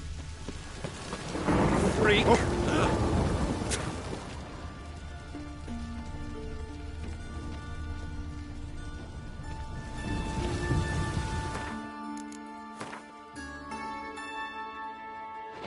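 Steady rain falls in The Witcher 3, a broad, continuous hiss with low rumbling swells, while characters speak over it and musical tones rise near the end.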